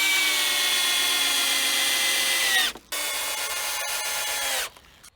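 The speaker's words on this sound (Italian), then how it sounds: "un avvitatore è d'obbligo per far molto prima" Cordless screwdriver driving screws into wood while assembling a cheap raised garden bed: a loud, steady motor whine in two long runs, separated by a brief stop, close up.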